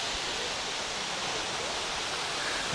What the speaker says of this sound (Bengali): জলগুলো ওখান থেকে পড়ছে, আমার চোখে মুখে কিন্তু ছিটা পড়ছে জলের